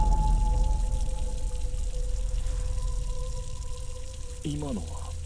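Water tap running steadily in a horror video game, a continuous close wash of flowing water with game tones over it and a brief warbling sound near the end.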